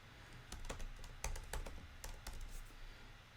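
Keys clack on a computer keyboard while text is typed into Photoshop, a short run of separate, fairly quiet taps over a low background hum.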